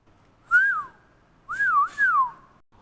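A person whistles to call a parrot: three clear rising-and-falling whistle notes, one alone, then a pause, then two close together, loud and near with no talking.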